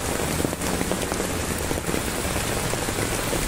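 Torrential monsoon rain in Vimannagar, Pune, pouring in a loud, unbroken hiss and patter close to the listener, with no voices.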